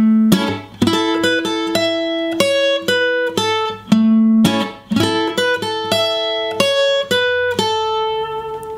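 Guitar picks out a song's intro melody with added rhythm, crisp plucked notes and short chordal strums in a steady, bouncing pattern, close and clear with no talking.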